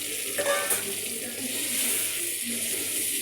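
Onion and garlic paste hits a pan of lightly fried onions, giving a close, steady sizzle with soft stirring scrapes and a brief clatter near the start, continuing evenly throughout.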